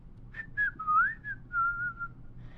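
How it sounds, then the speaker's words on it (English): A man whistling a wandering tune while walking through woods, clear melodic notes sliding up and down for a few seconds over faint background rumble. "Birge starts whistling to pass the time"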